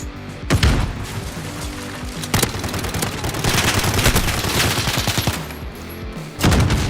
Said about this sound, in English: Now it's mini Uzis.